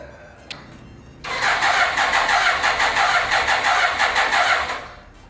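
A motorcycle that has sat in storage for eight months cranks with a loud, steady, rapid churning that begins abruptly after a brief quiet click and runs for about four seconds without catching, stopping at the end.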